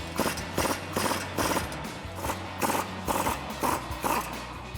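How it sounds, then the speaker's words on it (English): A control arm bolt on a 2011-2023 RWD Dodge Charger being removed with a 15mm socket and 18mm wrench, heard as an even series of close, repeated ratcheting clicks in regular bursts. "Now we can go ahead and remove the bolt using our 15mm socket and our 18mm wrench."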